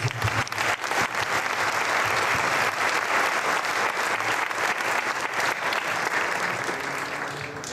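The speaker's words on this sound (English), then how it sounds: "come on, thunderous applause in appreciation to Sharmani who did it" A crowd at a youth talk in Midrand breaks into thunderous applause, dense and loud clapping that fills the room continuously for several seconds before easing slightly at the end.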